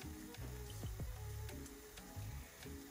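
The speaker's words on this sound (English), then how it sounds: "So we're gonna be frying this until it's all really golden brown." Bofrot (puff puff) dough frying in oil over medium heat, a quiet, steady sizzle with faint bubbling and a few soft pops, close and alone without talk.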